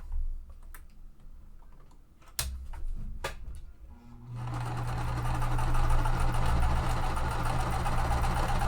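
Sewing machine stitching quilt pieces, a steady mechanical whir that starts partway through after a few scattered clicks and handling sounds, then runs continuously and fairly loud to the end.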